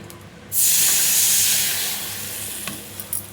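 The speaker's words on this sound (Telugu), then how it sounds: "కొంచెం దీంట్లో పోసేస్తున్నాం అనుకోండి" A hot tempering of oil and spices is poured into buttermilk, bursting into a loud hissing sizzle after a brief quiet moment, then slowly fading, with a few small clinks near the end.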